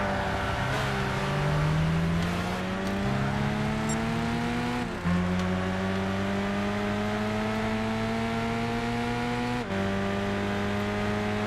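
Renault Clio race car in the Gran Turismo 6 video game, engine revving upward through gears with clear pitch rises and drops at shifts, loud and continuous with no talk.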